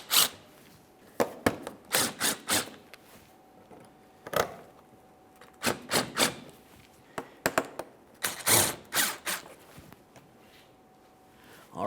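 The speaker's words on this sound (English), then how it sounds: "I'm just going to start in these mounting bolts before tightening any of them" A hand ratchet clicks in quick bursts, starting mounting bolts for the washer fluid reservoir on a 2008-2017 Mitsubishi Lancer. Clusters of sharp ticks are broken by short pauses, close and clear, with no talking.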